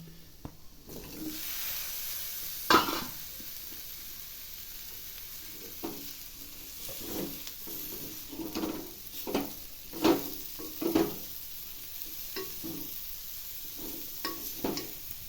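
Chinese potatoes (koorka) frying in a pan with crushed, dried-out onion and curry leaves give a quiet, steady sizzle, broken by soft stirring scrapes and occasional louder clicks.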